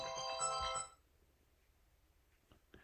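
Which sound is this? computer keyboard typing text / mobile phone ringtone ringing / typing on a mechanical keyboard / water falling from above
mobile phone ringtone ringing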